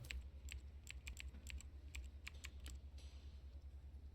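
Keystrokes on a computer keyboard in the FMV mystery game Jessika, a dozen or so light taps in an uneven rhythm over a steady low hum, fading out in the final second.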